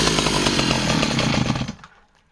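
A Stihl 009 top-handle chainsaw that runs poorly and seems starved of fuel buzzes loudly and roughly for under two seconds, then quickly dies away to silence.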